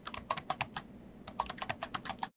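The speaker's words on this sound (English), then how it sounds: "Alienware posted a teaser on Twitter giving us an idea of how typing sounds." Keys clack on an Alienware m15 R5 laptop's Cherry MX ultra low profile mechanical keyboard in two quick bursts of crisp, close typing separated by a brief pause.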